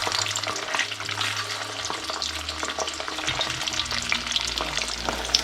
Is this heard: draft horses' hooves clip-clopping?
no